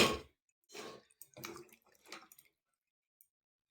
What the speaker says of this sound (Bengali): এবারে দিয়ে দেবো অল্প একটু জল